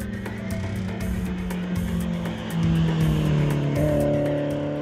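BMW 1M coupé under way, its engine droning with a pitch that climbs and steps up as it accelerates through the gears, a steady, fairly close sound with no one talking.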